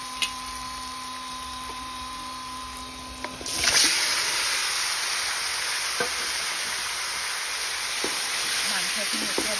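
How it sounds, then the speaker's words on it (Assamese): Meat dropped into a hot pan of browned onions starts a loud, steady sizzle about a third of the way in, replacing a quieter kitchen hum and continuing to the end. "আমাৰ পিঁয়াজখিনিও ধুনীয়াকৈ ৰঙচুৱা হৈছেগৈ আৰু এতিয়া ইয়াতে মাংসখিনি দি দিওঁ"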